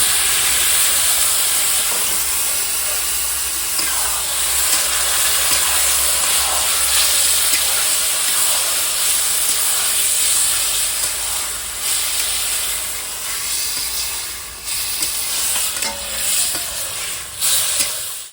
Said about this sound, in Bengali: বন্ধুরা এবারে আমি কচি ডাঁটাগুলো ভেজে সেদ্ধ করা দিয়ে দেবো।